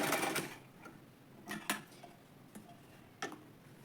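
Domestic sewing machine running in short bursts while stitching fabric to finish a scissors organizer, giving a few quiet mechanical whirs and ticks separated by pauses.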